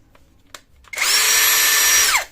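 A Hasston 16.8-volt cordless drill whirs up to a steady high-pitched spin for over a second, then winds down; a few faint clicks come before it starts.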